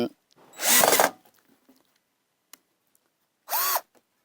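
A power drill or impact driver unscrews nuts, two short loud whirring bursts close by separated by quiet with faint clicks and handling sounds, a brief voice at the start.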